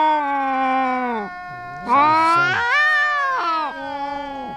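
Long, wavering meows from a jungle cat, several drawn-out cries in a row, loud and close, with no talk over them.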